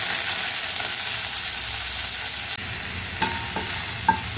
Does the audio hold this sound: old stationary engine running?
no